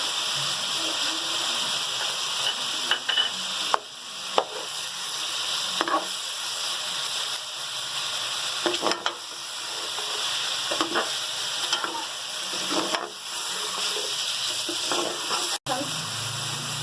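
Loud, continuous sizzling of ginger-garlic paste, salt, turmeric and tomatoes frying in a hot pan for chicken Shinwari karahi, with occasional stirring clatters breaking through the hiss.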